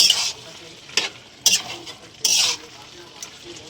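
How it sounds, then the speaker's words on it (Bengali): Jackfruit seed, malabar spinach and papaya curry being stirred with ghee in a pan: a steady sizzle under a few scraping strokes of the spoon against the pot, close and fairly loud, with no talk. "ভালো করে মিশিয়ে নিচ্ছি ঘিটা দিয়ে।"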